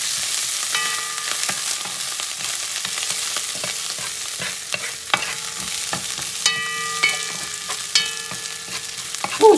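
Calamari rice stirred in a hot pan, with a steady sizzle of frying underneath and scattered scrapes and clicks of the spoon against the pan, alone and without talk.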